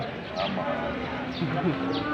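Low lowing calls from water buffalo sit under a steady outdoor hum at a livestock sale, a few soft moos rising and fading, with faint voices around.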